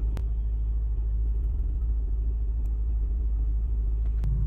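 Inside a moving Toyota 4Runner, a steady deep road rumble and low engine drone continue evenly throughout, with a few faint clicks and no talk.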